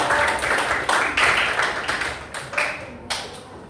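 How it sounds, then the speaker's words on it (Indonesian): A classroom audience claps for a presenting student group, a steady broad patter of hands with a few stronger surges, no voices over it. "Beri tepuk tangan untuk kelompok kami."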